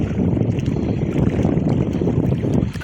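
Steady, loud wind blows across open water with continuous splashing and rushing noise on the Se Bang Hiang river, a dense outdoor roar without any clear voices.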